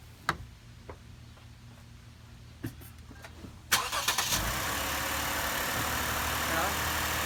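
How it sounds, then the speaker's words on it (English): A Lexus IS250 is started up close: a few ticks and clicks, a short cranking burst, then the engine catches and settles into a steady idle. "So now let's start the car real quick and see if the headlight comes on."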